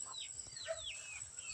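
Chickens clucking and calling in short bursts over a low background hum, moderately close, with no talking.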